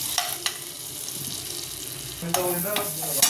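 Whole spices fry in butter with a soft steady sizzle, punctuated by a few sharp clinks and scrapes from stirring.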